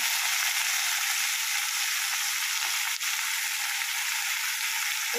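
Ridge gourd and potato pieces frying in hot oil, giving a steady, loud, close sizzle that holds evenly throughout with no talking.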